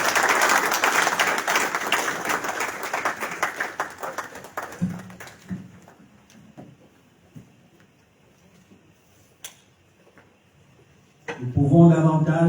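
A crowd at a university ceremony launching a doctoral philosophy unit applauds steadily for several seconds. The clapping fades to a quiet room with scattered small knocks, then a muffled voice rises near the end.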